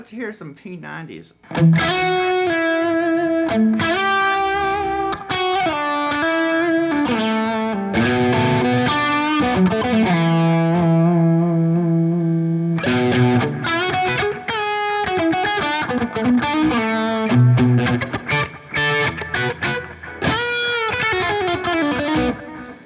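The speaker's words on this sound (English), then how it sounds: "Let's hear some P90s." Electric guitar with P90 pickups through a Friedman BE100 Deluxe amp, loud and close with a distorted, effects-laden tone, playing chords, sustained notes and rapid picked runs broken by brief gaps.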